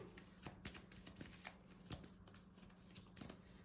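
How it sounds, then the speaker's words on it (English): Someone shuffles a deck of Slay the Spire board game cards close by, with soft, irregular riffles and papery slaps over a faint low hum. "I don't know why I'm just shuffling my deck there."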